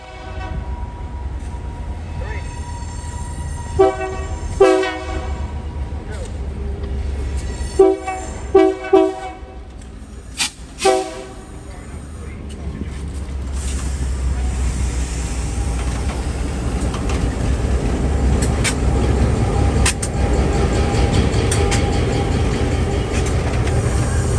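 A diesel switcher locomotive on the New York and Atlantic Railway rumbles along with a low steady engine drone, sounding several short horn blasts in the first half, then a louder continuous roar as it passes close at a recycling plant.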